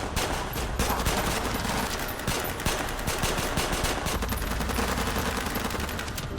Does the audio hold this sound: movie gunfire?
yes